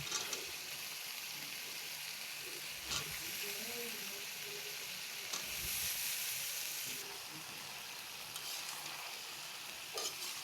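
Chopped beans, tomato, potato and eggplant frying with cooked-down onions in a pan, a soft continuous sizzle and hiss with occasional stirring scrapes, close but quiet.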